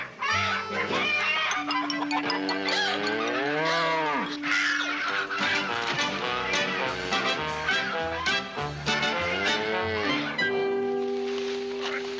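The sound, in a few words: cow mooing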